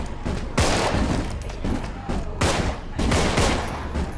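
Gunfire rattles in the video game Contagion as repeated loud shots and bursts over about four seconds, filling the space with dense, echoing blasts.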